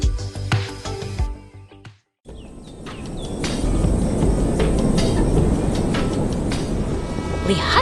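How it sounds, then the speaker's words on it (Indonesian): A steam train runs through quiet countryside in a 3D animation, its steady rumbling rush building and holding loud and continuous after a brief silent gap near the start. "Lihatlah kereta uap itu melaju dengan anggun membelah pemandangan desa yang tenang."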